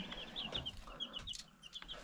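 Soft, high peeping and clucking from small birds, several short calls scattered across a couple of seconds, quiet and close.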